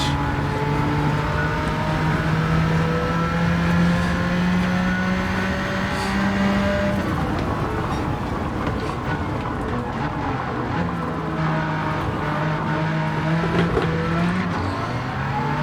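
A 1992 Jaguar XJ220 racing at Monza in Gran Turismo 7, its engine droning loud and continuous, pitch climbing through the gears, dropping sharply midway, then rising again.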